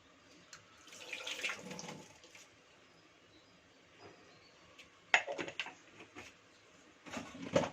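Tamarind rinsed under a running kitchen tap while making mint pulihora paste: intermittent splashing water in bursts, moderately close, with quieter gaps between and no talk.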